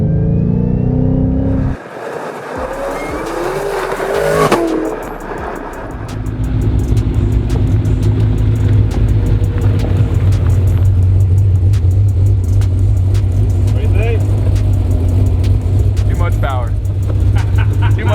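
A high-powered Cadillac rated around 1100 horsepower accelerating hard, a deep sustained engine roar and heavy rumble heard from inside the car, steady and loud for many seconds, with people talking underneath.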